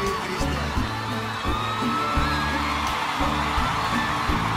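Concert audience cheering and whooping, a loud, sustained crowd roar with yells and shouts rising through it and rhythmic pulses underneath.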